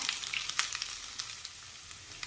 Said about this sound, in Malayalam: കടുക് പൊട്ടി അതിലേക്ക് ബാക്കി വെച്ചിരിക്കുന്ന വെളുത്തുള്ളി ഇഞ്ചി അരിഞ്ഞത് ചേർക്കാം.